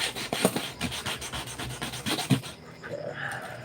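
Hand sanding wood along the grain while building a pentacle art piece: repeated close scratchy rubbing strokes in an uneven rhythm, fairly quiet, with no speech, easing off toward the end.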